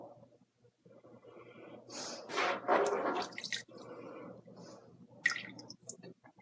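Wool is slowly dipped into a pot of violet and black dye, giving soft wet dripping and squishing sounds, close and fairly quiet, with a louder splash midway and drips near the end.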